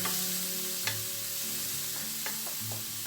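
Chicken frying in a pan with a little water just added, a loud continuous close sizzle with faint stirring clicks and no speech.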